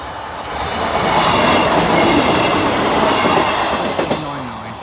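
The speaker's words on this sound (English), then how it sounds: "the 1531 East Midlands Railway service from Leicester to Lincoln Central" An East Midlands Railway passenger train, Leicester to Lincoln Central service, rolls over Boultham level crossing with a loud steady rumble and wheel noise, ending in a brief high squeal as it passes close by.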